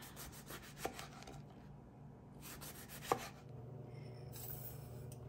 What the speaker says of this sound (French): Et là, on va couper le reste en tranches.